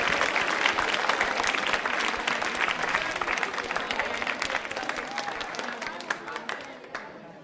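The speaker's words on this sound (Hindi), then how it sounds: "तालियां जोरों से" A school quiz-show audience at Subodh Public School claps for a contestant, a full, steady wash of many hands that holds strong and then gradually thins and fades toward the end.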